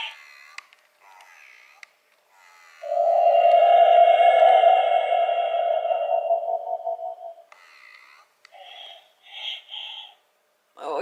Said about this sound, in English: he does make 25 plus sounds and movement combinations